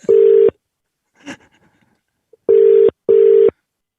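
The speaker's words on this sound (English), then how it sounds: "It's actually the same ringtone." An outgoing phone call rings back with three loud, even electronic tones, each about half a second long, separated by pauses, with a faint breathy noise in one gap.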